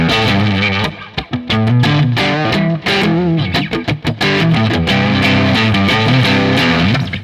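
An electric guitar through a Guitar Rig 5 Blues Git preset plays loud, gritty, distorted chords and riffs with sharp choppy stops and sustained crunchy notes, up close and alone.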